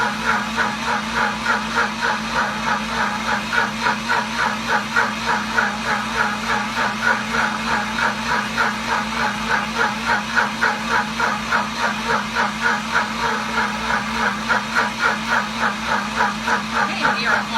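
A Deluxe Cooking Blender churns thick peanut butter, its motor running steadily with a rapid pulsing rhythm throughout, loud and close, with a faint background hiss.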